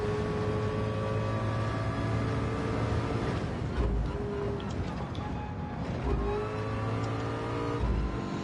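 A McLaren race car engine in a racing video game drones steadily throughout, with sustained revving tones shifting in pitch as the car accelerates, loud and continuous with no talk over it.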